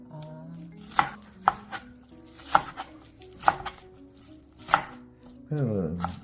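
A knife chops green onions on a cutting board for thin-sliced pork belly bulgogi: about seven crisp, spaced strikes, then a brief scraping rustle at the end, with no talk.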